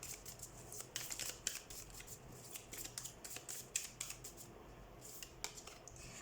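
Quiet, crisp riffling and snapping of a tarot deck being shuffled by hand, with irregular flurries of light card clicks and brief pauses over several seconds, close up and without talk.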